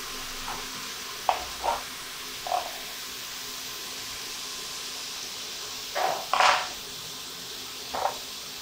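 Small pieces of bacon frying in a pan, a faint steady sizzle broken by several scattered scrapes and clicks of a utensil stirring, close but quiet, with no voices.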